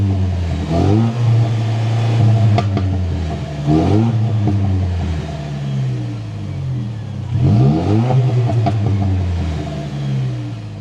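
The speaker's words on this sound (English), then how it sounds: "inside the 2025 TRD Pro Tacoma, keep my foot on the brake, we can fire it up" A 2025 Toyota Tacoma TRD Pro engine fires up, then revs sharply several times, each rev climbing and falling back to a steady idle, loud and close, with no talk.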